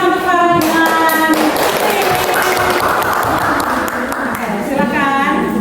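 A classroom audience applauds student presenter Farhan with a burst of many clapping hands lasting about four seconds, close and loud, and a voice speaks just before and after.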